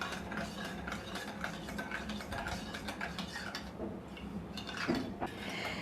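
Salt is stirred into water to dissolve it while making potato wafers at home: close, steady scraping and light clinking in an even rhythm, with no talk over it.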